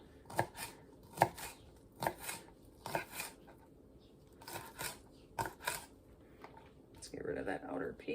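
A knife cutting an ear of corn in half, heard as a series of sharp crunching chops in an irregular rhythm, close and clear, with some rustling handling noise near the end.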